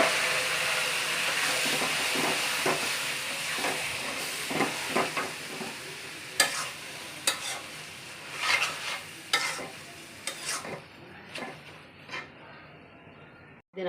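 Fried onion and garlic tempering is poured over taro greens in a pot, giving a strong hissing sizzle followed by scraping stirs and clinks that fade toward a quieter end.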